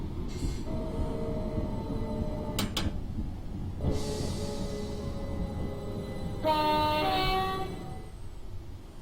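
A Class 378 train in a video game rolls into a station with a steady low rumble, sounding short horn-like tones and a few sharp clicks as it slows.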